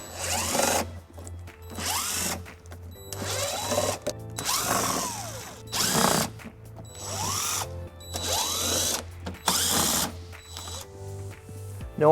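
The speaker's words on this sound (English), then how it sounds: "There's 8 screws holding it in, and we're going to be using an 8mm socket to remove those." A power tool with an 8mm socket drives out underbody panel screws on a 2018 BMW 530i, several short whirring bursts separated by pauses, each rising and falling in pitch, close and loud.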